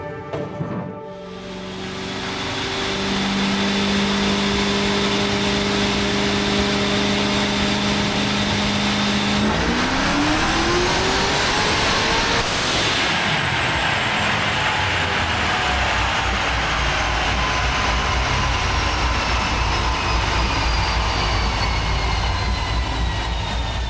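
A BNMC Mustang restomod engine revs hard and climbs steadily on a full pass, a loud continuous roar with rising pitch that sweeps upward midway, heard alone without talk.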